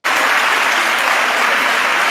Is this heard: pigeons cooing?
no